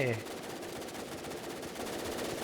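Rapid automatic gunfire in a first-person shooter game, a dense continuous burst of shots close and loud throughout, with a person's voice briefly at the start.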